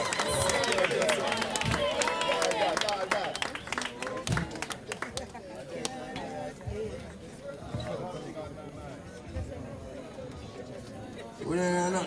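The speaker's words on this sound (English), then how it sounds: "Give him another round of applause as he comes" Crowd at an evening reggae show at Kingston Night Market applauding and cheering for Horace Andy, clapping loudly at first and thinning out, with voices talking through the applause and a swell at the very end.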